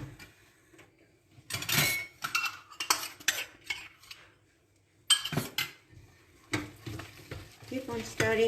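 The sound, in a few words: stirring Mohanthal sweet mixture in a pan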